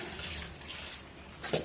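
A steady stream of water pours into a pot, a soft continuous splashing that stays fairly quiet throughout.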